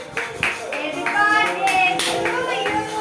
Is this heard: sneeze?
no